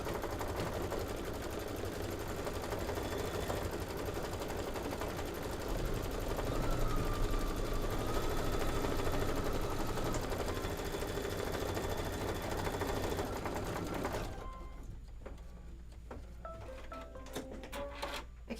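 A sewing machine runs steadily while quilt squares are pieced together, a soft continuous whirring hum that stops near the end, leaving a few small handling clicks.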